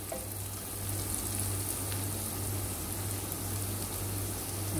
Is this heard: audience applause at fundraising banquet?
no